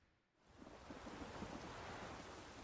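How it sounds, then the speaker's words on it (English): Steady rain with a low, rolling thunder rumble in The Witcher 3, rising from near quiet into a continuous broad hiss of downpour without any voices. "Oh, it's thundering."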